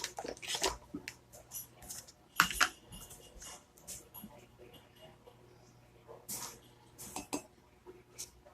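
A spoon scoops baking cocoa into a mug, giving light, scattered clinks and taps against the ceramic. The sounds are faint and close, with quiet gaps between them.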